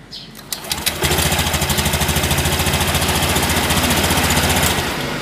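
A Honda Beat scooter's engine starter cranks with a loud, fast rhythmic chugging that starts after about a second and holds steady to the end.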